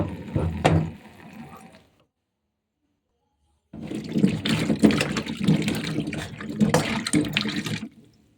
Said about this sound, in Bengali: আলুটা ধুয়ে নেব আলুটা ধুয়ে নিচ্ছি